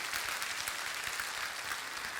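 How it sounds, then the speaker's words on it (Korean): Congregation applauding together during a year-end Sunday worship service in a Korean church, a steady dense wash of hand claps held at even loudness throughout, with no talking over it. "올해 마지막 주일을 맞아서 하나님 앞에 감사의 박수와 영광의 박수를 올려드리기 바랍니다."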